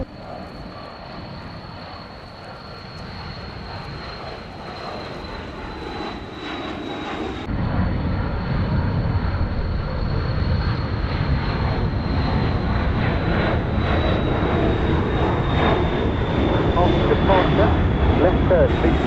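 A Cessna 560 XL Citation XLS business jet takes off at Gibraltar. A steady high whine is joined by a loud, building engine roar that holds strong and continuous to the end.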